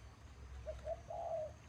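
A dove coos softly in the distance, a short phrase of three low hooting notes with the last one drawn out, over a quiet outdoor hum.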